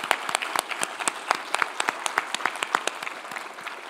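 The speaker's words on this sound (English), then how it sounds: "A round of applause for both of you." Applause at a Canadian broadcast journalism awards gala, a few scattered hands clapping in an uneven rhythm, moderately close and fading slightly toward the end.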